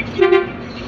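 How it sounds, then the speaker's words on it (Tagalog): A single loud truck horn blast, steady and close, lasting under a second. "Highway horn."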